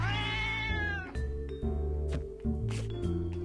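Several cats meow in Minecraft, one drawn-out meow followed by shorter ones and a few pinging sounds over a steady low game backdrop.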